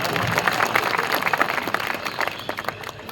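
Audience at an outdoor Hindi poetry recital on a town ground in Kawardha applauds after a poem, with dense steady clapping that thins into scattered claps toward the end.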